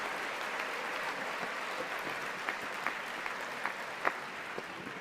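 Steady, fairly distant applause from a large audience during a presidential address to Congress, a continuous wash of many clapping hands with a few louder individual claps.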